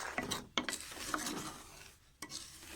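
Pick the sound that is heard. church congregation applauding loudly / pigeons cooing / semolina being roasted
semolina being roasted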